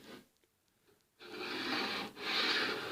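A handmade knife blade is ground against a grinder, giving a close, harsh rasping that starts after a brief near-silent pause with faint taps, runs steadily, dips briefly, then continues.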